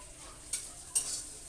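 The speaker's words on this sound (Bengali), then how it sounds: "বেশি করে কালো জিরে দিয়ে দিচ্ছি" Black cumin seeds dropped into hot oil in a pan with garlic, giving a soft sizzle with two brief louder crackling bursts as they hit and are stirred, close and steady.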